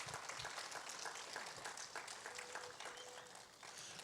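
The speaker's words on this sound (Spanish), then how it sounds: "Vamos a recibir a nuestra hermana Yolanda con un fuerte aplauso." A crowd applauds steadily at a church class, a dense wash of clapping that sounds distant and fairly faint throughout.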